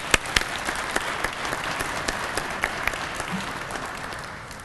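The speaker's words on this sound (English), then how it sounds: "Please give a warm round of applause for Mr." An audience at a recruit class graduation ceremony claps continuously for nearly five seconds, with a few sharper individual claps popping out of the steady wash.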